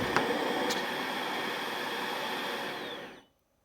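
A Clearway 2 airway clearance device runs with a steady airy whoosh and faint motor hum, holding constant for about three seconds before cutting off abruptly into silence.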